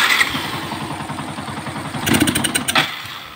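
A motorcycle engine with a suspected carburetor fault cranks and putters at a steady, uneven idle, then surges in a brief sputtering rev near the end, heard up close with no talking.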